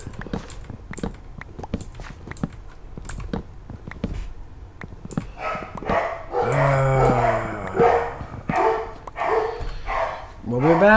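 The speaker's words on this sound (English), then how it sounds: "When the dogs shut the hell up." Dogs bark repeatedly in an online multiplayer survival game server, a run of sharp, fairly close barks mixed with footstep-like clatter while several people talk over them.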